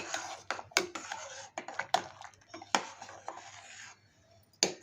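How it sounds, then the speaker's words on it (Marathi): A spoon scrapes and knocks against a metal pot of wheat porridge in irregular strokes, close by, with a few sharp clinks and quiet pauses between. "आता मी हे हलवून घेते"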